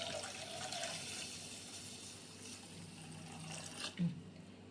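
Water pours into a pot for making rosemary water as a steady, close splashing stream that runs about four seconds, then stops with a light clunk, with no talking.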